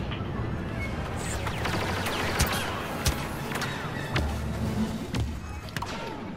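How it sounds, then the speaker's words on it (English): A pulse cannon fires in the Star Wars Battlefront game, with sharp blasts and thuds scattered among gunfire and other battle effects at a moderate level. "Boom! Pulse cannon, bitch."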